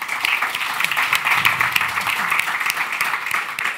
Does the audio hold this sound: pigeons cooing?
no